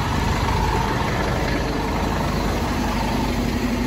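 A Scania school bus engine idles with a steady, low diesel rumble, constant and unbroken at moderate volume.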